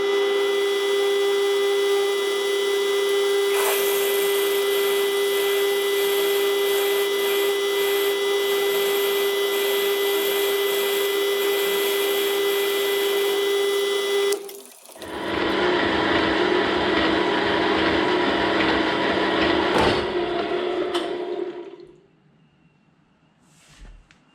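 A metal shaper cuts a steel tool holder blank in a long, steady mechanical drone with a constant hum, then shifts to a rougher, noisier cutting stroke before the machine stops and winds down, with no voices.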